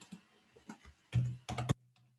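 Bursts of computer keyboard typing, with scattered single key clicks followed by rapid clusters of keystrokes, close and fairly quiet with no talk.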